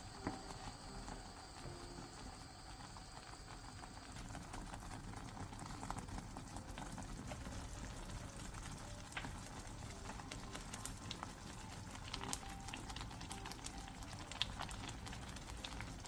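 Egg mixture simmering in a pot over medium-low heat, a steady soft bubbling and crackling hiss that runs evenly throughout, faint and close, with no talking.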